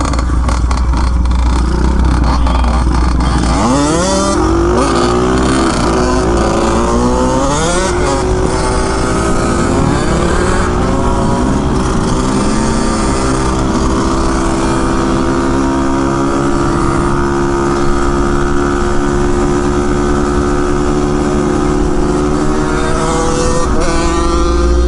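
A 600cc pit bike engine revs hard close up, its pitch climbing, dropping at a shift into second gear, then rising again in a loud, steady, unbroken drone.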